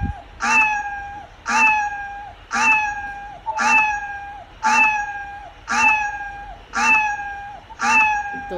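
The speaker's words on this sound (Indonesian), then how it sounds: "mau sampai malam dengerin meong" A cat meows over and over at an even pace, about eight clear, loud, drawn-out calls spaced roughly a second apart, each the same falling cry, with nothing else behind them.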